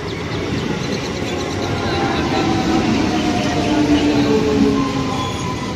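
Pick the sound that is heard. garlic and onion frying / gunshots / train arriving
train arriving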